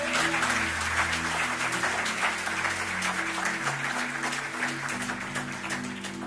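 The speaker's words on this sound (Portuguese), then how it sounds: "Pode aplaudir a Jesus por isso." A church congregation at a Lisbon worship service breaks into sustained applause, a dense, even wash of clapping lasting several seconds with a low musical drone beneath it.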